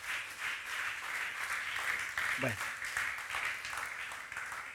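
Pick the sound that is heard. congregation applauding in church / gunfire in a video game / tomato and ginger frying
congregation applauding in church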